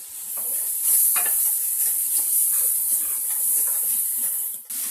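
Mushrooms sautéing in a pan with salt, a steady close sizzle and hiss with occasional stirring scrapes throughout, no talking.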